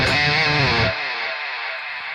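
A distorted musical tone cuts off, leaving a fading delay-effect spillover tail of echoing repeats that trails away into near silence.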